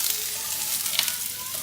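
Steak dinner ingredients sizzle and crackle in a hot pan as they are stirred, a bright continuous frying hiss with a few sharper pops and a faint scrape near the middle, close and fairly loud with no talking.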